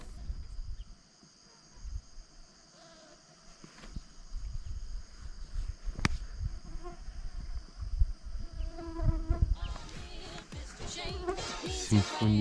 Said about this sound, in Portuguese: vou parar um pouco pra vocês ouvirem os mosquitos.